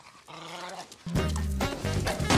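A dog from the crime film Snatch growls low, then breaks into loud, close barking and snarling, with no talk over it.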